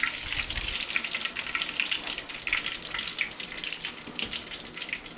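Chicken browns in hot frying oil in a pan for chicken parm, a steady close sizzle with crackling pops and no talk.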